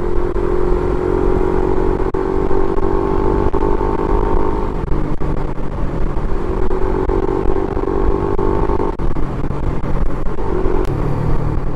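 A Suzuki Raider 150fi motorcycle cruises along an asphalt road lined with trees, its engine a steady, loud rumble with wind noise and no talking.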